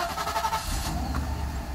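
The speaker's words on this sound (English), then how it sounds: "let's start the car" A Mercedes SL500 engine cranks briefly and catches, settling straight into a loud, close idle rumble.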